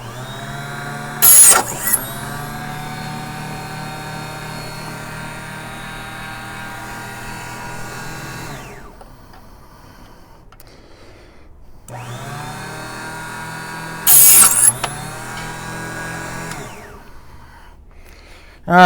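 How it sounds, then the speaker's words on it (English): A powered chop saw trimming brass 300 Blackout rifle cases held in a jig makes two loud sustained whining runs of several seconds each, with a sharp cutting burst near the start of each run and a quiet pause between them. "I'm behind the chop saw right now just so the camera can get it real good"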